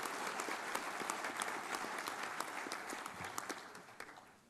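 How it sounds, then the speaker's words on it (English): An awards banquet audience applauds for Kathleen with sustained, fairly even clapping that fades slightly toward the end, heard at a moderate distance with no speech over it. "Can we get a round of applause for Kathleen, who is here with us tonight?"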